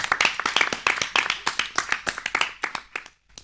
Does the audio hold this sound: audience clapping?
yes